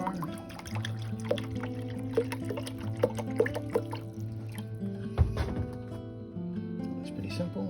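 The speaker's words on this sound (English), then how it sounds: "Water goes into the reservoir." Water poured into the reservoir of an opal cutting machine, splashing and dripping at close range over a steady low mechanical hum, with a sharper knock partway through.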